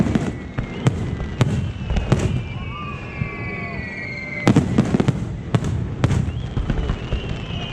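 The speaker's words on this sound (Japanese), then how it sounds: "花火するね。" Fireworks exploding at a Japanese fireworks festival climax in Kurabuchi, a rapid series of sharp bursts and crackling pops with whistling trails, close and loud, with people talking and reacting over the blasts.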